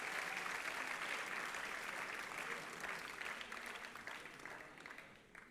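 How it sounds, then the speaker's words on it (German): An audience applauds at a church talk, a dense wash of clapping that starts full and gradually thins and fades toward the end. "ein Applaus, bitte"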